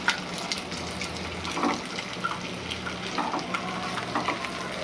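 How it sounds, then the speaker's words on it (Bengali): Onions and three eggs fry together in a pan, a steady close sizzle with soft crackles and occasional stirring scrapes throughout, no voices. "পেঁয়াজ ভাজতে ভাজতে এর মধ্যে আমি ডিমটাও দিয়ে দেবো"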